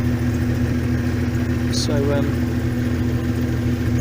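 A steady, low engine idle drones continuously from a Subaru 3.0 flat-six fitted in a VW T3 van, with a faint brief chirp partway through.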